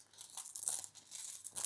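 Tarot cards shuffled by hand, giving a close, quick run of papery riffling and crinkling bursts in an uneven rhythm with no talking.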